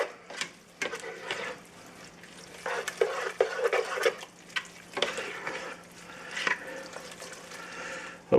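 Soft wet stirring and scraping as dried chipotle powder is mixed into smoked macaroni and cheese, a series of close, quiet spoon strokes and squelches with no talk.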